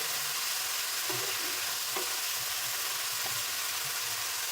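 Vegetables fry with ground spices for a fish curry, a steady close sizzle running throughout with a few soft stirring scrapes of the spoon; no talk.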